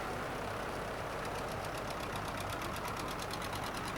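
A vintage Porsche tractor engine runs at an antique machinery show, giving a low, steady chugging drone with a fast, even rhythmic knock throughout, moderately faint and without voices.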